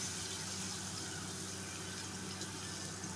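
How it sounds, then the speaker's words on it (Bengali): Chopped garlic sizzling in hot oil left over from frying fish for a tak jhal fish dish, a steady, even hiss with no break and no voices. "ওই তেলটার মধ্যেই আমি দিয়ে দেব অল্প একটু রসুন, কুচো করা রসুন।"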